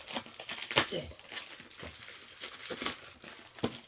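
Paper envelope being torn and crinkled open during an unboxing of video games, a series of close, sharp rips and rustles in irregular bursts, with no talking.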